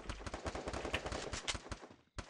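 Rapid bursts of gunfire fill a Free Fire match, loud, dense shots crowding together for about two seconds, a brief gap, then one more burst, with no talk over it.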